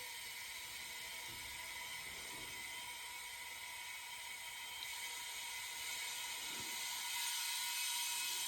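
Compressed air hisses steadily into a paint pressure pot pressurised to 60 PSI for painting kitchen cupboards, a continuous close rushing sound that grows slightly louder toward the end.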